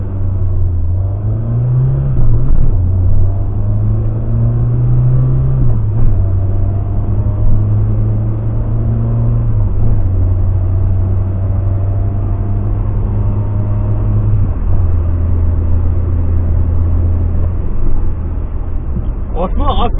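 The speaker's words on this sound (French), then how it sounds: "Hop, on va passer les vitesses. Hop, première, et c'est parti." A Citroën AX fitted with a short shifter driving off from first gear, its engine droning steadily in the cabin, pitch rising and dropping with each quick gear change, while someone talks over it.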